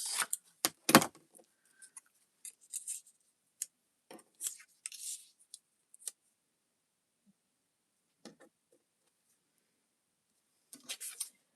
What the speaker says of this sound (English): I'm going to cut 2 strips.